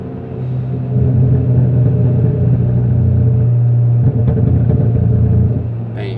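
A Ford Focus ST with a burble-tuned exhaust drones loudly from inside the cabin, a deep sustained rumble that holds steady and eases off at the end.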